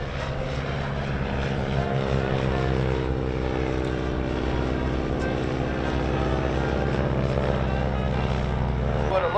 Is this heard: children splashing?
no